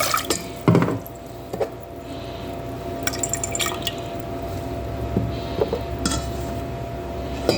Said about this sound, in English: we're going to take our water, our sugar, our lemon juice, and combine it into a pot, and we're going to basically make a syrup.